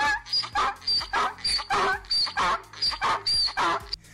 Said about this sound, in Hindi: गधा ऐसे दौड़ के आता है भौंकता हुआ,